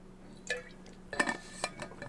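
Small sips of water, a few soft wet gulps and a light clink of a glass spaced over a couple of seconds, quiet and close.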